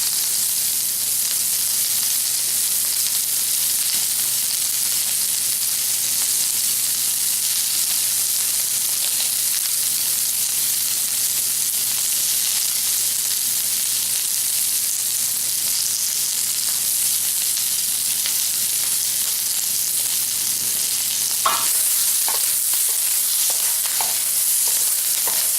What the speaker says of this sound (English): Give it a stir a while longer.